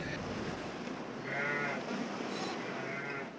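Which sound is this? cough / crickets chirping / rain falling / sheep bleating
sheep bleating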